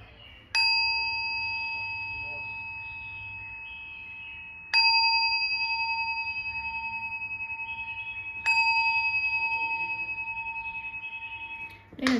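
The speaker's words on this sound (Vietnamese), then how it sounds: "Thì ở đây em cũng sẽ đánh tiếng chuông." A small antique Japanese bronze meditation bell, about 7.5 cm across, is struck three times at even intervals, each clear ringing tone sustaining and slowly fading before the next strike.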